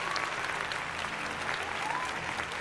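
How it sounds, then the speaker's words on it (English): Applause sound effect set off by a button: a dense, steady burst of crowd clapping lasts throughout at an even level. "It felt weird without the applause."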